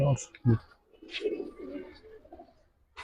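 Giribaz pigeons on a rooftop loft coo in low, rolling bursts, close and clear after a couple of brief loud knocks at the start, with human voices nearby.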